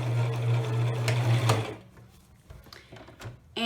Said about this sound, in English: I do is back stitch